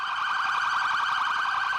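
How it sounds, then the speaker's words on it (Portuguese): Sirens of 43 new police patrol cars in Rio de Janeiro, launching the Patrulha Maria da Penha program, wail loudly in a steady rapid warble, close and continuous with no talk. "As sirenes de 43 novas viaturas anunciaram o início do programa Patrulha Maria da Penha"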